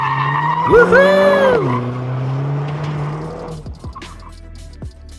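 A Mercedes-AMG A45 S 4MATIC+ with reworked rear-biased four-wheel drive drifts, its tires letting out a loud, sustained squeal over the engine note, then fading as the car moves on; a person whoops excitedly.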